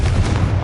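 A Confringo blast in Hogwarts Legacy lands as a loud, deep booming explosion, a dense low rumble held throughout a brief moment.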